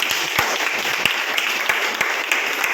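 Lively clapping from a crowd at a bazaar business meeting, honoring a man, with a dense patter of hands broken by sharper individual claps at uneven intervals.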